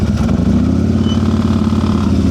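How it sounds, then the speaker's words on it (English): A motorcycle engine hums and revs steadily at low speed during advanced slow-speed riding practice in a parking-lot exercise, a loud close drone with a slight rise in pitch and no talking. "I heard his RPMs go up, but then he smashed on the brake."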